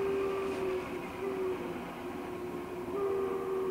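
Monarch 10 x 20 precision toolmaker's lathe spinning at around two thousand RPM, a steady close mechanical hum and whine with a sustained tonal drone throughout and no speech.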